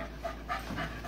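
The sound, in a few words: Cocker Spaniel dog panting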